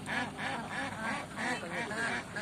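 A flock of ducks grazing on leftover rice in a paddy field quacks in a continuous overlapping chorus, rhythmic pulsing calls at moderate distance with no break.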